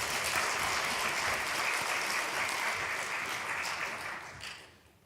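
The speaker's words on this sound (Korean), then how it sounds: "우리 격려와 사랑을 담아서 우리 박수로 격려하겠습니다." A church congregation claps warmly together in a broad, even wash of applause that holds steady for several seconds before tapering off and fading near the end, with no voices heard over it.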